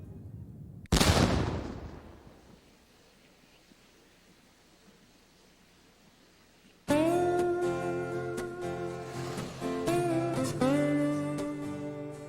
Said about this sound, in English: One of Cape Town's traditions is the noon gun at Signal Hill.